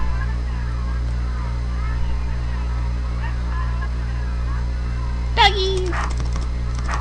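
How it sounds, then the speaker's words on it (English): A dog in the video game Ahriman's Prophecy gives a short, sudden bark near the end, over a constant low hum while a voice talks in the background. "Doggy!"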